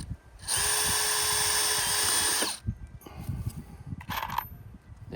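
Power drill driving short screws through lath strips over a post on slatted fencing, one steady loud whirring burst of about two seconds, then quieter scraping handling noises and a brief second drill whir.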